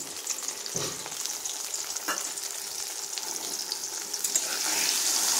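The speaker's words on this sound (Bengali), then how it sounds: "পেঁয়াজ, আদা, রসুনের পেস্টটা ভাজা হতে থাক" Steady, bright sizzling of onion, ginger and garlic paste frying in hot oil, with a couple of soft stirring scrapes; the crackle grows slightly louder toward the end.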